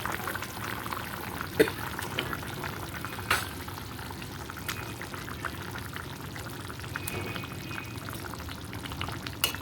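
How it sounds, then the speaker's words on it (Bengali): A potato and eggplant fish curry simmering in a pot as fish pieces are slipped into the boiling gravy, steady soft bubbling with a few brief splashes and clinks, close and fairly quiet, no talking. "ঝোলটা ফুটে উঠেছে দেখতে পাচ্ছেন বন্ধুরা এবারে এক একে মাছগুলো আমি আস্তে আস্তে করে ঝোলের মধ্যে ছেড়ে দেবো"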